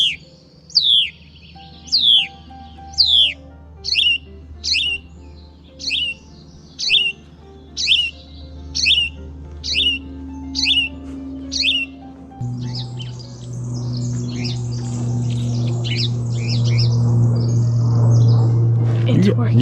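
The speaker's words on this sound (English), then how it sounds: "Calling the birds." Wild birds calling back to a human-made bird call on a bushy outdoor walk: a run of about a dozen sharp, evenly spaced chirps, then a denser chatter of overlapping tweets over a steady low hum, fairly close and loud.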